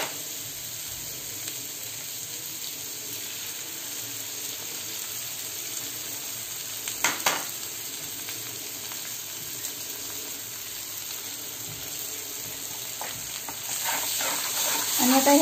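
Eggs frying for street-style anda bhurji, a steady close hiss of sizzling in the pan. A few stirring scrapes come near the middle, and the frying grows louder toward the end.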